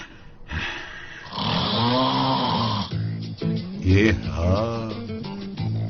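A man snores loudly and close, long rasping breaths with a rattling, buzzing tone in slow repeated pulls, heard alone and dominating the scene.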